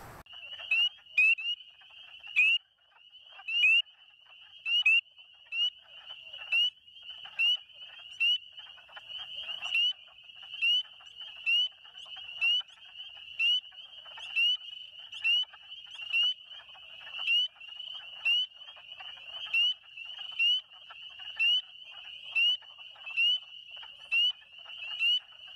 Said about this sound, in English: That, guys, was a release call.